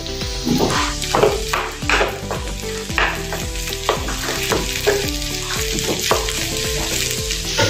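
Curry leaves sizzle in hot oil over boiled potatoes, a loud close crackling hiss mixed with repeated metallic clinks and scrapes of a spoon against the pan, no talking.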